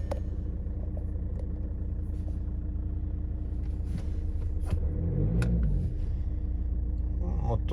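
A Volkswagen Touran engine idles with a steady low rumble throughout, close by, with a few clicks and a brief surge in the middle.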